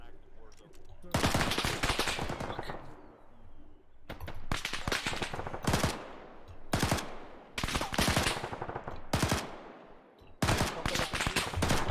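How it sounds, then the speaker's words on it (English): Sustained bursts of machine gun fire in the military shooter ArmA, an enemy MG position firing from a bunker, rattling in long loud volleys separated by short pauses, close and dominant with no talk over it. "MG's pinning me."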